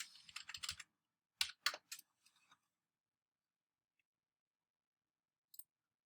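Quick keystrokes on a computer keyboard, close and crisp, a rapid cluster then a few scattered taps, with near silence afterward and one final click.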